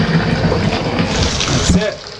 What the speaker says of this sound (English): And then run hot water to fill them up